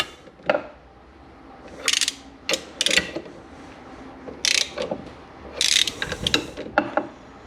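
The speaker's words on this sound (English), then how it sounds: "Crankshaft is spinning." Crankshaft of a disassembled Aprilia RS 125 Rotax 122 two-stroke engine being turned by hand, giving a series of dry metallic ratcheting clicks and clatters in irregular bursts, close and fairly quiet with no talking.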